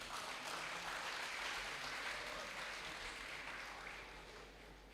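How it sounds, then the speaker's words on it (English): Applause for the university rectorate at a live academic ceremony and signing, a faint, broad wash of many hands clapping from a distance, continuous and smooth throughout, slowly fading toward the end. "Give a round of applause for the Rectorate."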